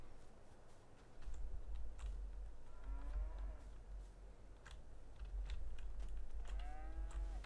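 Cattle in Farming Simulator 22 give two drawn-out moos, one midway and one near the end, over a steady low farmyard hum with scattered soft keyboard-like clicks.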